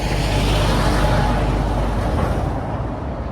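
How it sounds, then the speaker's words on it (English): A big truck passes on a city street with bikes and cars around, a loud, steady roadway rumble that holds for a few seconds and then eases slightly as it moves off. "Big truck like this."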